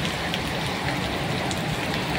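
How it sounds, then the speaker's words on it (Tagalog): Heavy rain pours down on Bonifacio Avenue in Caloocan, heard from under a roof shelter as a dense, steady hiss with scattered drops hitting surfaces close by. "Lakas ng ulan."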